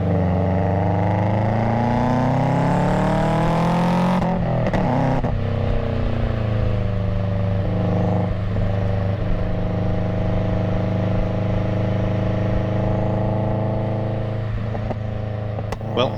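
A Subaru WRX fitted with an upgraded pitch stop mount on a test drive: the engine drones and revs through climbing pitches with a gear-change break, loud and steady from inside the car.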